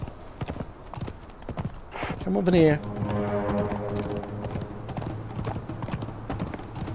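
Horse hooves clop along in the survival game Conan Exiles while someone talks over them, a quick irregular beat of hoofbeats close by, with a brief loud horse neigh partway through.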